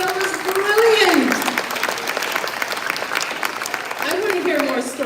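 Audience applause for a storytelling duo at a live performance, steady clapping throughout with a voice talking over it at the beginning and again near the end.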